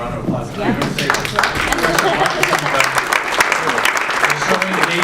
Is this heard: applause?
yes